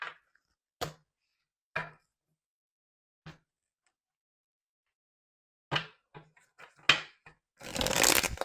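Tarot cards are handled close up: a few sharp, separate card slaps and taps spaced out in near silence, then a quicker cluster of flicks ending in a brief riffle shuffle.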